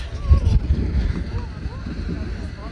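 Strong gusts buffet the microphone outdoors at an open-air concert, a continuous low rumbling roar with uneven surges, loudest early on, steady and close throughout.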